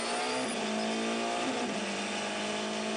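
Race cars at the 2016 WEC 6 Hours of Bahrain, with Porsche prototypes in the fight, produce a loud, sustained engine drone with a shifting pitch as they power past.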